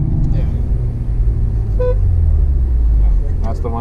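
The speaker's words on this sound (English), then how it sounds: "That is not a BMW horn." A modified 2020 Toyota Supra sounds its horn at a track day: a short toot midway and another near the end, over a loud engine and road rumble, with voices nearby.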